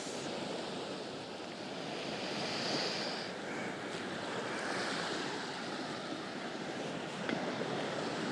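Ocean waves wash onto a Tel Aviv beach in a steady, broad roar of surf with gentle swells, mixed with wind noise on the microphone. The sound is continuous and moderately loud, with no voices.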